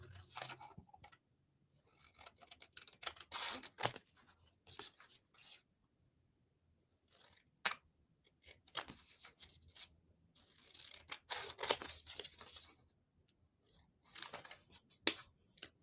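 Scissors snip out paper napkin motifs in short, quiet bursts of crisp cuts and rustling, separated by silent pauses, close and faint with no talking.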